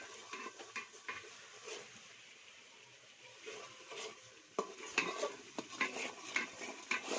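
Mutton kasa being stirred in a pot at home, a spoon scraping and clinking against metal under a low sizzle, faint and soft at first, then louder, irregular stirring strokes near the end.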